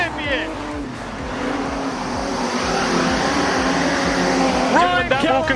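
Street stock race cars roar through the turns at Carina Speedway, a loud sustained engine drone with a car passing close near the end, under a race announcer's voice.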